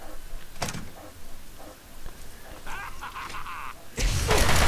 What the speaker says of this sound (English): Open door to the power station.